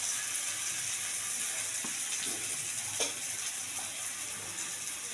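Catla fish head fries in a pan with turmeric, giving a steady, fine sizzle broken by a few soft clinks and scrapes, all close and fairly quiet.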